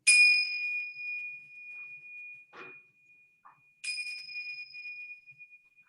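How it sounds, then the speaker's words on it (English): Two bell strikes during a yoga and qi gong session, each a clear ding that rings out and slowly decays; a softer tap falls between them. "Let's begin with the sound of 3 bells."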